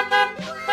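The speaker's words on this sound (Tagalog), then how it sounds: "Parinig natin yung busina." A PIAA horn on a Honda Giorno scooter sounds two quick, close, loud bright toots, with a brief lower tone between them.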